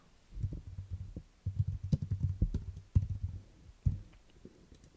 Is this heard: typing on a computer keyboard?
yes